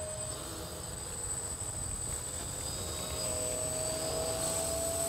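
Small AeroSky 4-channel quadcopter in flight, its motors giving a steady, continuous high-pitched whine over a rumbly background hiss, the tone creeping slightly upward near the end, heard fairly close with no talking.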